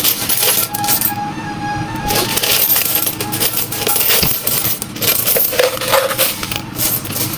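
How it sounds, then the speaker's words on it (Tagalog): Loose coins from a day's earnings clink and rattle without pause as they are counted by hand. The sound is close and loud, with bright metallic jingles throughout. "Tara, sabay na akong bilang dito sa barya-barya kita namin araw-araw sa chain."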